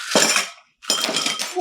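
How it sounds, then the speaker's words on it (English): Ice cubes clatter into a glass while a New Orleans Vieux Carré cocktail is being made: two close, bright bursts of clinking and rattling, separated by a brief silent gap. "Ice it up. Ice your glass."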